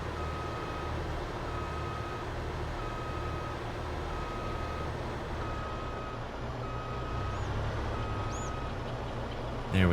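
Steady electronic reversing beeps from a truck in Farming Simulator 22 repeat at an even pace over a constant engine drone, with no speech.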